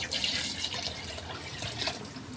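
A pitcher of water is poured into a pot of mung bean soup with cabbage and pork bones, making a steady close splashing gurgle that lasts the whole moment without talk.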